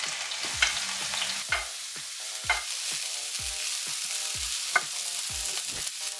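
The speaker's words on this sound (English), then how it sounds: "you want to saute the onions, the green and red peppers, and a cup of the breadcrumbs" Onions, green and red peppers and breadcrumbs sautéing in melted butter: a steady crackling sizzle with repeated spoon or spatula scrapes and knocks against the pan at an even rhythm, with no talking.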